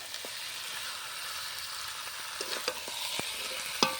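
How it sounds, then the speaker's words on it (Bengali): Chicken pieces fry and sizzle in a pan with oil, a steady close hiss broken by sharp scraping and stirring clicks of a utensil, growing busier toward the end. "চিকেনটা কিন্তু মোটামুটি একটু ভাজা ভাজা হচ্ছে।"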